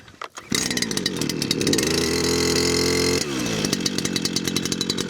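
A small two-stroke weed whacker engine on a farm pulls to life after a brief cord rattle, then runs at a steady high-pitched buzz up close, briefly revving before settling back to a loud continuous drone.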